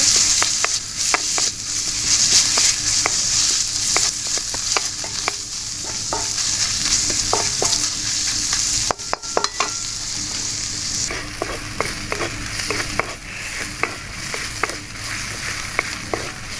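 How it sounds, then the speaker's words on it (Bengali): Garlic paste sizzles and fries in a pan with fried onions, with repeated scraping and stirring clicks over a constant crackle; no one speaks. "খুব ভালো করে ভাজা হয়ে গেল।"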